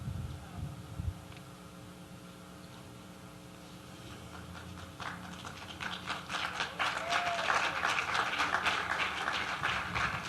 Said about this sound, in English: Big round of applause for our City Council and their guests from their respective districts